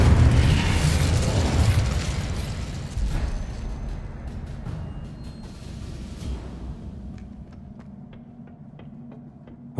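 Spell blasts crackle and boom through a Hogwarts Legacy combat fight, a dense loud wash of bursts that thins after several seconds into scattered sharp ticks and pops over a low hum.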